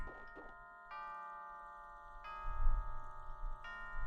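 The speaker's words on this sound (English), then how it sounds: "the bell is rung twice" A bell rung twice in the Ani Town Saga video game, two clear ringing tones that hang and decay, with a third strike near the end and a low rumble underneath.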